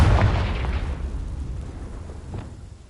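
A Confringo explosion spell goes off in Hogwarts Legacy on PS5: one heavy booming blast up front that rumbles low and slowly fades away.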